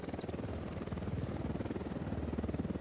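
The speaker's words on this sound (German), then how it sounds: "da kommt gerade ein Unidad-Hubschrauber von oben" A Unidad military helicopter in the Ghost Recon Wildlands video game passes close overhead, its rotor giving a loud, steady rhythmic thumping and droning hum that carries through the whole stretch with no talk over it.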